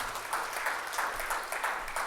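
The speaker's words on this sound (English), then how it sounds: "Give her a round of applause." Audience applause for a young businesswoman at an entrepreneurs' conference, a short burst of rhythmic clapping from a moderate crowd heard at a distance, fairly quiet and even.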